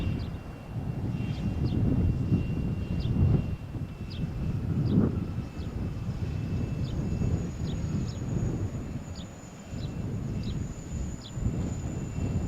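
An airliner takes off from runway 13 at Malaga Airport on a stormy morning, a steady distant engine roar with wind buffeting the microphone, no talk.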